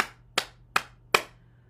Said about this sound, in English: Clap your hands and stimulate your heart.